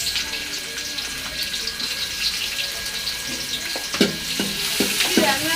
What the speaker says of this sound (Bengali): পেঁয়াজ আর কাঁচামরিচটা ভেজে নিবে।